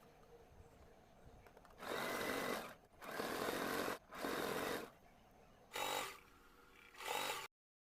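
Sewing machine stitching a strip onto an Angrakha-style kurti made from a reused saree, running in five loud bursts of about a second each with brief pauses between them.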